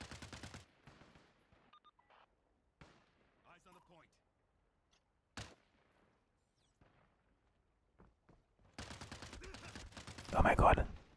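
Gunfire in the online shooter Caliber arrives as scattered short bursts and pops with quiet gaps between them, building to a louder, denser volley near the end, while a player talks in between.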